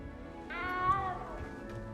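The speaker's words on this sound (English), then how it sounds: "You don't need to be frightened, little cat." A small cat meows once in the video game Hogwarts Legacy, a clear drawn-out mew that rises and then falls, heard close up over faint background sound.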